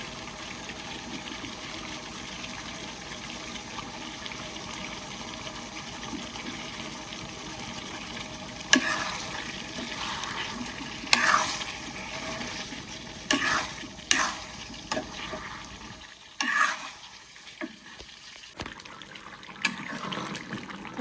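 Potatoes going into a cooking pot in a village kitchen, heard as irregular clunks, stirring scrapes and soft liquid sizzling that grow busier after a quiet start.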